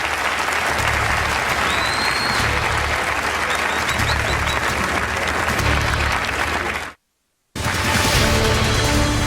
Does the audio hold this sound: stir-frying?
no